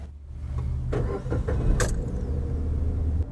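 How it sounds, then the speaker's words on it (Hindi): A car's engine cranked by its self-starter after the car is checked to be in neutral, with a brief whirring start giving way to a steady low engine idle, close and loud, with no voices. "उसके बाद गाड़ी को आप सेल्फ मारेंगे।"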